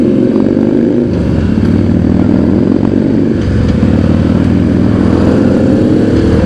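A motorcycle rides close and loud, its engine holding a steady, pulsing drone with a slight rise in revs partway through. Some clatter runs under the engine and nobody speaks.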